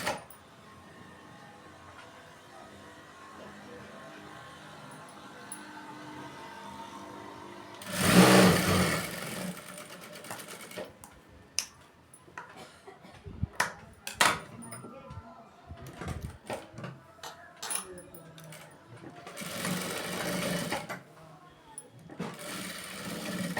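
A sewing machine runs a short burst of stitching along a folded blouse seam, followed by scattered clicks, fabric handling and small knocks at close range.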